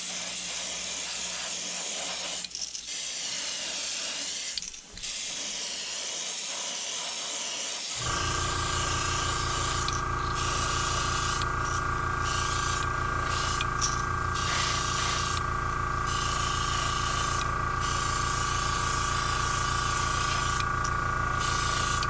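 A spray gun lays a heavy coat of pearlized copper paint onto a lipless crankbait fishing lure, beginning with quieter intermittent noise and then giving a continuous, close, steady hiss from about eight seconds on.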